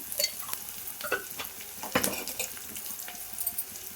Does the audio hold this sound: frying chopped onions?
yes